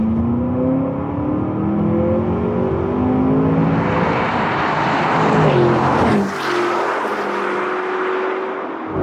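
A Range Rover Sport SV and a Lamborghini Urus Performante accelerating hard in a drag race, a loud sustained engine roar climbing in pitch through the gears with a sharp shift break partway through.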